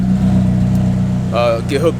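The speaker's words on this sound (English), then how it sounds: "it is idling a bit high at about 900 or so RPM" A turbocharged 4G64 engine in a Mitsubishi Galant idles slightly high, a steady low, even hum with regular pulses, close by, while someone talks over the last part.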